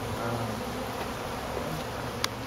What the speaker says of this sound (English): I've got a big ball of bees on top of here